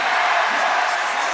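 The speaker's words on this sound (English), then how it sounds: "The crowd grows louder." Dense crowd roar fills an NCAA women's volleyball match between Wisconsin and Northwestern as a player lines up to serve, a steady, loud wash of voices without clear individual cheers.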